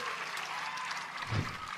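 A crowd at a professional pickleball match in Tucson applauding and cheering, a faint continuous patter of clapping with a brief thump near the end.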